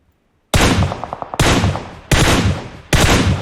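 Gunfire in the mobile battle royale game PUBG Mobile, four loud sudden bursts after a brief silence, the first with a rapid rattle of shots, each decaying quickly.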